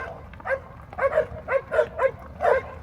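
Dogs bark repeatedly in a remote small Texas town near the New Mexico border, about six sharp barks spaced roughly half a second apart, heard at a moderate distance over a quiet background.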